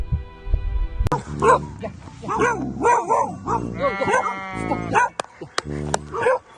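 A dog barks and yips repeatedly up close, with whining tones mixed in, while people talk over and between the barks.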